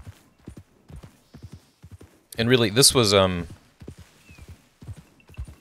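A horse galloping in Red Dead Redemption 2: rhythmic hoof clip-clops in a steady gallop run under someone talking, with a loud burst of a horse's neigh or snort in the middle.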